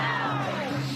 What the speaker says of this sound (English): You can hear the crowd behind me just outside the entrance of the courthouse shouting a chant of due